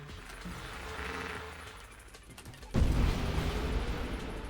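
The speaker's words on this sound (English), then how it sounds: "What was that big explosion? That's him going into phase 2." A boss in the space shooter Nova Drift bursts apart in a big explosion as it enters its second phase. A sudden deep boom breaks through the steady game music and synth hum, and a loud rumbling wash lingers after it.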